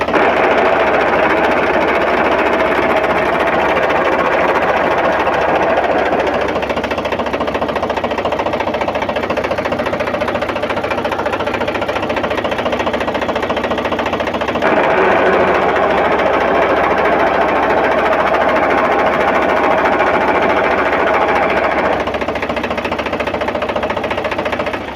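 Indo Farm 3035 DI tractor running steadily with a clutch fault, a loud continuous mechanical drone with a rattling, grinding texture as gears are forced to shift with the clutch pedal fully pressed, with no voices.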